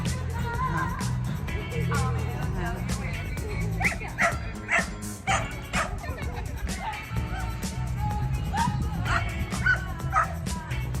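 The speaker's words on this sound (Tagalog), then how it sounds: "May aso nag-aaway" Several dogs yip, bark and whimper in a noisy scuffle amid a bustling crowd at the Toowoomba flower festival, with chatter in the background.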